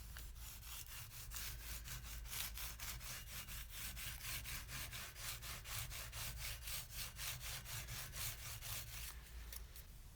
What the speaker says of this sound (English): A little bit of WD-40 and a crinkled piece of aluminum foil will do the trick.